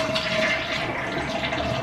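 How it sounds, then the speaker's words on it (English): A toilet flushes nearby, a loud steady rush of draining water that carries on without pause. "And then you want to flush it."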